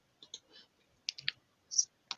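A few scattered computer mouse clicks, sharp, close and fairly quiet, come in small irregular bursts while student records are entered in school software, with no voices.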